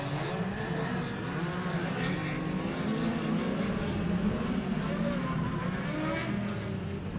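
Midget race cars starting a ten-lap race, a dense pack of engines roaring and revving continuously at close range, with crowd noise and commentary woven underneath.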